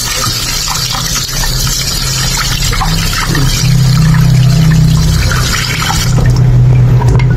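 Tap water runs loud and steady while rice is washed in a kitchen to make goto, a rice porridge, pouring continuously with slight surges.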